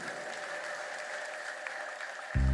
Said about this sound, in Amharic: እዚህ ቤት ጌታ አለ ምትሉ አጨብጭቡ ለጌታ ክብር